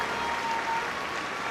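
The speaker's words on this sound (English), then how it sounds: "Warm applause from Rhian Wilkinson." Steady applause rolls through a stadium crowd at a Wales v Croatia women's Euro 2025 qualifier football match, a broad even wash of clapping with no pauses.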